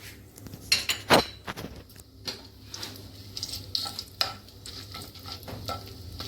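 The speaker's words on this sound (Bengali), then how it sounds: "একটু ঘি দিয়ে দিলাম তেলের সঙ্গে তাতে করে গন্ধটা অনেক বেশি ভালো হবে আর গোটা গরম মশলাটা দিয়ে দিলাম" Whole garam masala sizzling in ghee and oil in a pan, a crackling fry with spoon clinks and stirring scrapes up close.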